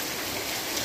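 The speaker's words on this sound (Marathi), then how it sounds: "तुम्ही बघू शकता कसे हे लागले ते सरी आणि धबाधब नुसतं पाणी पडता।" Heavy rain pours down steadily in a continuous, even wash of water noise during a short downpour in rural Konkan.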